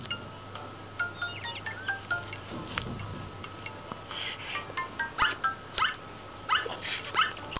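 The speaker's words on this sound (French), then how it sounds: "il y a aussi les aboiements qui sont différents" A Welsh Corgi Pembroke puppy in the Nintendogs+Cats video game gives short, high yips and barks in scattered bursts. Light clinks and chimes come from the game in the background.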